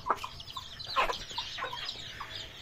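Pigeons feeding on peas in the shade make soft, scattered clucking and cooing calls at close range, with rustling and faint background noise.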